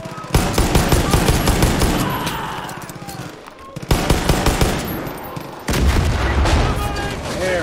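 An MG 42 machine gun in a video game fires long, dense, loud bursts of rapid shots with booming low impacts, broken by a brief pause before the firing resumes.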